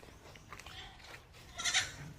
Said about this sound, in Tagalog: May baby goat akong nakita.